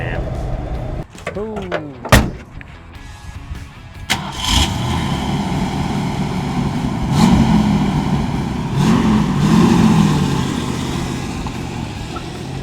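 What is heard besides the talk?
1967 Ford Mustang 289 V8 engine starting up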